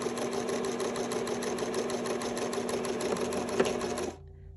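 A sewing machine stitches through the bill of a welding cap in a fast, even run of rapid needle strokes, close and steady, then stops abruptly near the end.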